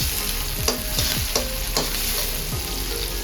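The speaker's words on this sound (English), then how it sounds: "Here I'm stir frying my veggies already." Vegetables, yellow and red pepper with spring onion, stir-fry in a hot pan with a steady loud sizzle, broken by a few scraping stirs of the utensil.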